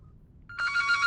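Phone ringing in a childcare video game, a bright electronic ring that starts abruptly after a brief near-silence and continues steadily and clearly.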